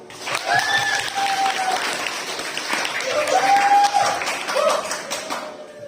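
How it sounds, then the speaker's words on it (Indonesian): Audience applause at a Nuzulul Qur'an gathering at an Islamic boarding school, a steady, moderately loud patter of clapping under and around a few voices and whistle-like tones. "Tepuk tangan dulu dong."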